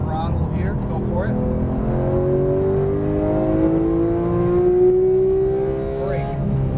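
A Porsche GT3 991 accelerates on a race track, its engine note climbing steadily in pitch as it pulls hard, loud and close from inside the car, with an instructor's voice talking over it.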